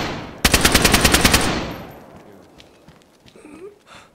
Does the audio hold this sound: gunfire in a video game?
yes